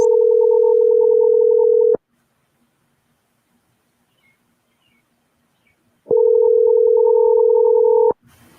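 A telephone line gives two long steady ringback tones on an outgoing call to a live-show caller, each about two seconds, loud and clean, separated by several seconds of near silence.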